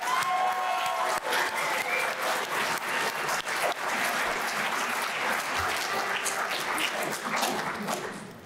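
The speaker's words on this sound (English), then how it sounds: "Can we get a round of applause for everybody that showed up here?" Audience at a convention applauding, dense sustained clapping from a crowd in a hall, steady and fairly loud throughout before tapering slightly at the end.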